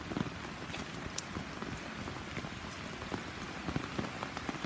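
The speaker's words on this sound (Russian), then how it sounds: "У нас тоже бывает дождь." Steady light rain in Israel patters on a surface with scattered sharper drips, fairly quiet and without voices.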